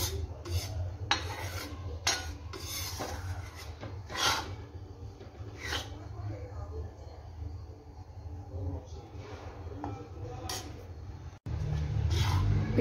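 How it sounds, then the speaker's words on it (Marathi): Wheat and millet flour is roasted and stirred steadily in a pan, a continuous close scraping and rasping with repeated strokes of the spoon over a low background hum. "सतत हलवत हे पीठ भाजायचं आहे आपल्याला."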